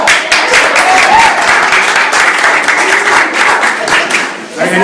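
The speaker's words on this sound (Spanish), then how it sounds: "Deberíamos recibir algún aplauso." An audience at a tribute to Sofia Imber applauds continuously to welcome Margarita, a dense, loud wash of clapping for about five seconds with voices talking and calling out underneath.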